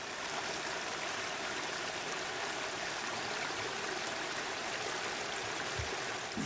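A backyard waterfall pours steadily, a continuous broad rushing splash of water that holds even and close for the whole stretch, with no voices over it.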